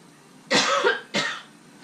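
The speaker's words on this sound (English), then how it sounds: "Hot peppers make me cough" Two loud, close coughing bursts from a person reacting to hot stuffed peppers being eaten while grilling, a longer harsh cough followed by a shorter one after a brief pause.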